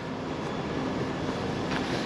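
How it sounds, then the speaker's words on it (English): A London Underground 1973 stock Piccadilly line train at Cockfosters gives a steady, even rumble with a faint high whine, holding level throughout with no speech. "And we'll board this train and it'll take us home."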